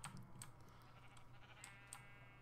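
Sheep bleat in the Minecraft video game, a few short faint bleats over a low steady hum with soft clicks like keyboard taps.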